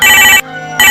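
A telephone ringtone rings loudly and close, an electronic tone that cuts off briefly mid-ring and then resumes.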